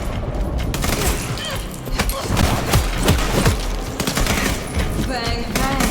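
Rapid bursts of gunfire fill a combat scene in the video game Vampire: The Masquerade Bloodlines 2, with loud close-up volleys, thuds and game sounds.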